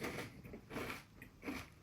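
Three loud, close crunches in quick succession as Tesco chocolate cornflake clusters are bitten and chewed.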